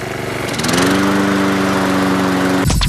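A Craftsman walk-behind lawn mower engine runs loud and close with a steady buzzing drone, then cuts off sharply near the end.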